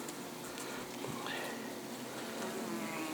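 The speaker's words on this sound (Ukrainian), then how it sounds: "Бджола при ділі, як то кажуть" Bees buzz close by, their drones rising and falling as individual insects fly past, steady and fairly quiet.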